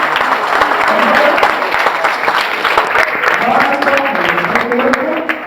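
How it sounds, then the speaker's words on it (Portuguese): A church congregation claps loudly in praise to God, a dense, sustained wash of applause mixed with cheering voices and the sound of music or singing beneath it. "Você pode dar uma aplauso a Deus por isso?"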